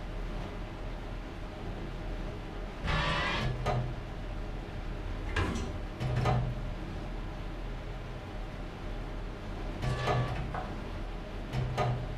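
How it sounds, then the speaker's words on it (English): Tank gun loading in the War Thunder video game, heard as several separate mechanical clacks and sliding thuds spaced a few seconds apart over a steady hiss, with no talk. "The gun's being loaded!"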